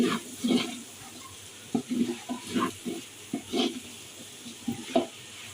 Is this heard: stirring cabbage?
yes